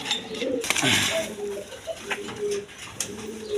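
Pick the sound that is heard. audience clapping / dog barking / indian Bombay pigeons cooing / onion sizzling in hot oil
indian Bombay pigeons cooing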